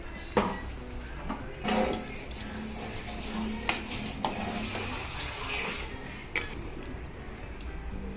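Water is poured into a mixer jar holding finely ground coconut paste for a prawn and drumstick curry, with splashing, sloshing and a few sharp clinks of the jar, close by, under a faint voice.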